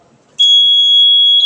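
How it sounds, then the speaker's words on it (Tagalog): A Novec 5 fire suppression alarm sounds a loud, continuous high-pitched electronic tone that starts abruptly and holds steadily, close by, over a faint murmur of background voices. "Alarm to. Alarm to ang may countdown."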